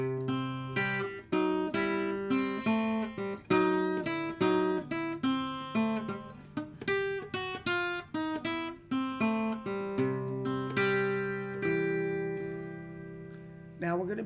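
An acoustic guitar plays a blues line in C, with plucked single notes and short double-stops in a loose, bouncing rhythm, close and clear with no talking.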